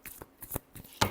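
Tarot cards being shuffled by hand, a few quick papery riffles and flicks in short bursts, close and crisp, ending with a sharper snap.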